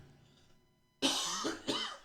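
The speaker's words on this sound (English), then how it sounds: "Little Corona cough there, no problem." A sudden close cough bursts out after near silence, followed by a second shorter cough a moment later.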